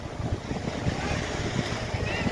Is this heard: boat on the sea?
yes